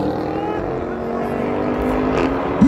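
A BMW B58 turbocharged car drag racing against a naturally aspirated V8 at a race in Botswana: a loud engine drone climbs steadily in pitch under hard acceleration, close by, ending in a sharp burst.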